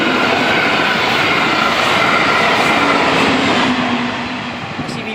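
A Brightline passenger train hauled by a Siemens Charger locomotive passes through downtown Melbourne, Florida, as a loud, close, continuous rumble and roar that eases off toward the end.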